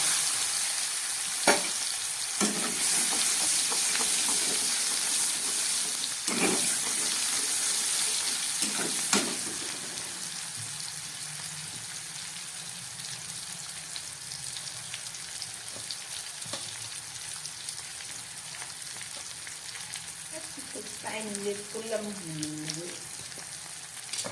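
Onions frying in hot oil left from frying rohu fish for a curry, a steady loud sizzle with a few clinks and stirring scrapes, settling into a softer crackle later.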